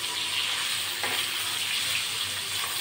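Eggs frying in a pan for a bottle gourd and egg dish, giving a steady, close hiss of sizzling oil with one small crackle, alone and without talk.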